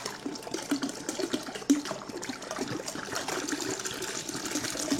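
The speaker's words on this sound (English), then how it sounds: "So I've got a bunch of cold water that I've just had sitting in the fridge." Cold water from the fridge poured out of bottles into a homebrew fermenter, a close, continuous gushing and splashing stream that rises and falls a little as it fills.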